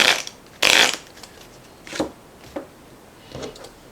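Stiff cardstock cards from the Time of Crisis board game being flexed and riffled, a loud crisp flutter near the start followed by several shorter snapping riffles, close and clear with no talking.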